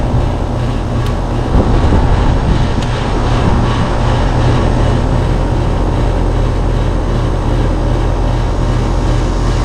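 An HVAC unit's fan motor runs with a steady, broadband whirring hum at close range, constant throughout with no talk over it.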